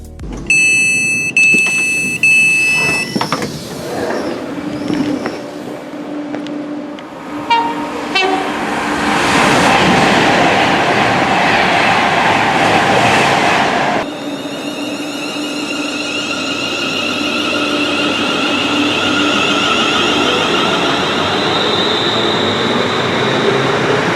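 A train pulls into Winsford station, opening with bright sustained horn-like tones before a loud, close rumble of wheels and carriages rolls steadily past.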